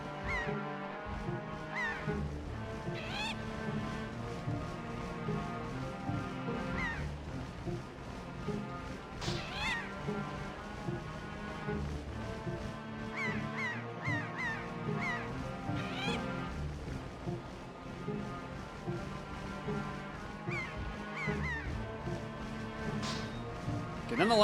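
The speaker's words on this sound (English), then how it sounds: "I just have to stay away from this one bird long enough" Repeated bird squawks and honking cries in The Legend of Zelda: The Wind Waker, mixed with busy game music and effects for a long stretch, with some talk in the background.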